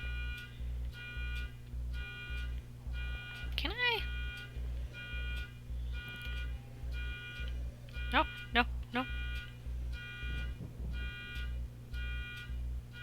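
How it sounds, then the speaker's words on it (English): A car alarm repeats outside in a steady pulsing pattern of regular electronic beeps, fairly faint under room sound, while a voice briefly speaks over it and a few louder chirping tones cut in. "I'm gonna stay in here until the car alarm stops."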